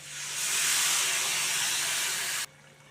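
Dissolved tamarind water hits a hot pan of frying raw mango and spices for pickle, setting off a loud, sustained steamy hiss that cuts off suddenly after about two seconds.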